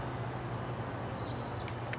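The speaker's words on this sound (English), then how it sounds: "And I hear crickets." Crickets chirp outdoors in a natural setting as a steady, thin, high trill. The trill runs continuously at a low level over a soft bed of ambient background noise.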